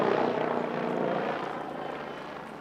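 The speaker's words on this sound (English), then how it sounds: "A typically exciting demonstration of this pioneering helicopter with its rigid hingeless rotor system" A Bo 105 helicopter with a rigid hingeless rotor flies an airshow display, its loud rotor and turbine roar steady and close, slowly fading.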